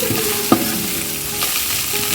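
Onions with mint and coriander sauté in a pan for mutton dum biryani. A continuous close sizzle runs throughout, with one sharp clack of a stirring utensil early on and no voices.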